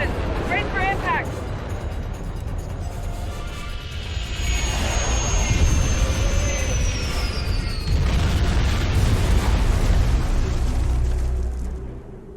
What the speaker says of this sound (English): Get us on the ground, Commander. Crash position. Brace for impact.